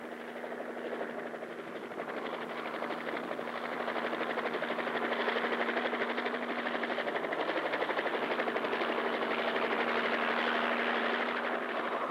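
A Hiller Hornet helicopter takes off lifting a load, giving a continuous loud whirring drone with a steady hum that holds for the whole stretch with no voices.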